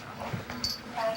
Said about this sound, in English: Get this dog out of here.